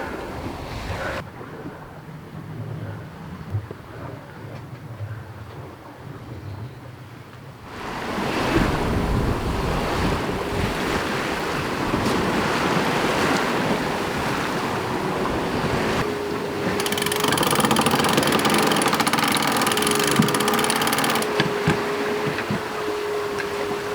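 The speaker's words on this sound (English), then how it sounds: "The wind's back" Wind and ocean waves roll past a sailboat at sea en route to the Galapagos, a broad rushing wash that swells louder partway through, with wind buffeting the microphone and no voices.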